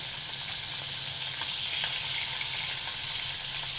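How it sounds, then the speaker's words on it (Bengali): Parshe fish frying in hot oil for a Bengali teljhal, a loud, steady, dense sizzle that holds evenly throughout with no voices. "দেখুন একদিকটা ভাজা হয়ে গেছে বলে আমি অন্য দিকটা উল্টে দিলাম এইভাবে সমস্ত মাছগুলোই কিন্তু ভেজে নিয়েছি"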